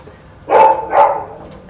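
A dog gives two short, fairly loud barks about half a second apart, close by, with quiet before and after.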